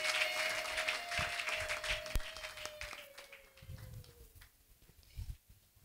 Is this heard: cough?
no